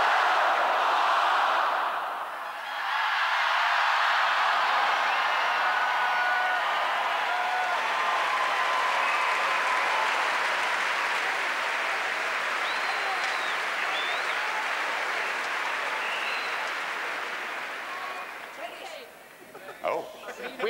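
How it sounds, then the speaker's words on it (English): Large concert-hall audience at the Last Night of the Proms cheering and shouting together, a broad sustained roar of many voices that swells, holds, then fades into scattered noise. "I think we should give them a little encouraging shout, don't you?"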